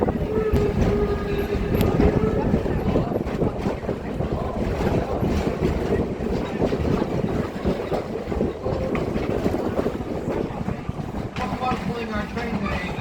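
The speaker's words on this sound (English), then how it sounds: "Torch Lake is one of 3 coal-fired steam power locomotives that operate trains here" The 1873 coal-fired steam locomotive Torch Lake, built for Upper Peninsula copper mining in Michigan, rumbles steadily along with train noise and wind buffeting the microphone, loud and continuous throughout.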